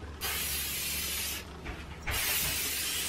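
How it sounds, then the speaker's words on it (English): Hairspray hisses from an aerosol can onto curled hair in two steady bursts with a short pause between, close and fairly loud, no talking. "I'm just going to put a little bit of hairspray in my hair to set all those curls."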